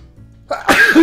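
A single loud, close sneeze with a sharp intake, breaking an otherwise quiet moment, no speech around it.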